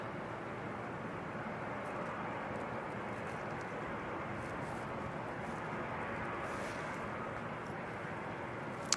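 An aircraft engine spools up at Christchurch Airport on a snowy day, a faint, distant, steady rumbling drone that hangs evenly with no voices.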